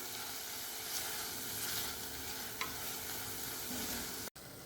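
Tomato sautéing in a pan with chili powder and goda masala, a steady close sizzle with soft stirring scrapes and a brief dropout near the end.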